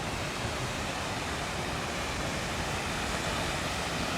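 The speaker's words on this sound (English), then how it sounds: "we're getting the end of our waterfall there." A waterfall pours beside a natural outdoor hot spring in Japan, a steady, dense rushing roar that fills the whole clip without pause or talking.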